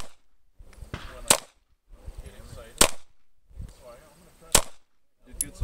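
Pistol shots ring out during an IDPA practical shooting stage: four sharp, loud cracks spaced about one and a half seconds apart, with movement and faint voices between them.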